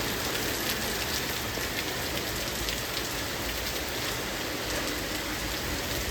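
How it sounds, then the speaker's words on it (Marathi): Heavy monsoon rain pours down in Nagpur as a dense, unbroken hiss of drops on surfaces, loud and even from start to finish with no voices. "आज पाऊस पाहू शकता तुम्ही खतरनाक पाऊस चालू आहे"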